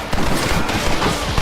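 A Gatling gun firing in the video game Red Dead Redemption, a brief, loud burst of rapid rattling shots with dense battle noise.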